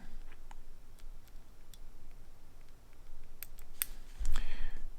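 Scissors snip thread or material at the vise while a Little Yellow Stone classic dry fly is tied on a Mustad hook: a few quiet ticks and handling noises, then one crisp close cut near the end.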